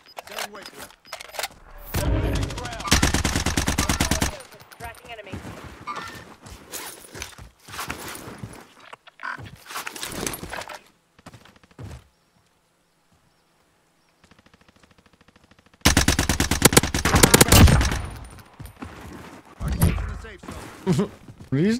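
Automatic gunfire from a C58 rifle in Modern Warfare Warzone: loud sustained bursts come in several stretches, the longest near the start and near the end, with quieter clicks and footsteps between and a short silent gap in the middle.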